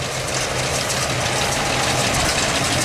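A small hay baler's engine runs steadily in a field during the first hay of the year, giving a continuous low mechanical drone and rumble with dusty wind noise over it and no talk.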